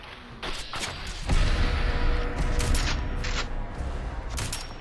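Remington 870 police shotgun firing slugs in Fallout 4, several heavy booming shots with thudding impacts over busy combat noise, loud and close, no talk.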